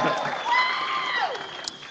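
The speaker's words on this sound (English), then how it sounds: "hopefully the crowd reaction will be something like this" Crowd reaction at a live remix demonstration, cheering and whooping with some applause at moderate volume, with a rising-falling shout audible over a continuous murmur of voices.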